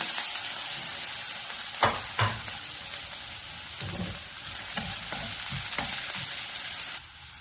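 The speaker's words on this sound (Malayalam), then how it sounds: "ഉരുളക്കിഴങ്ങ് ചേർത്ത് നന്നായിട്ട് വഴറ്റി എടുക്കുകയാണ്" Diced potato and onion sizzle steadily in a hot pan, with a few sharp scrapes and stirs of a spatula breaking through the continuous frying hiss; no one speaks.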